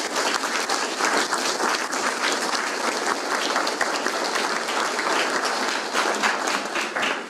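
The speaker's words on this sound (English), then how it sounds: "I'd just like to give our panel a big round of applause." A large audience gives a discussion panel on the future of Canadian diplomacy a long, dense round of applause, steady and full throughout with no talk over it.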